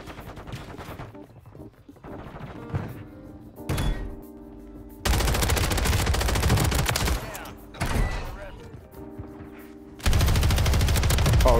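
Bursts of automatic gunfire in the Warzone video game, loud, close and dense, coming in several sustained volleys separated by short quieter gaps.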